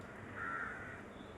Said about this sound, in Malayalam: കിളികളൊക്കെ പാറിപ്പോകുന്നുണ്ട് കേട്ടോ